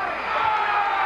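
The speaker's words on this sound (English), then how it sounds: "Let's listen to the crowd count down this ball game." A crowd in the stands at a 1982 Thanksgiving Day high school football game between Norristown and Upper Merion counts down the final seconds, a steady, dense roar of many voices heard from a distance.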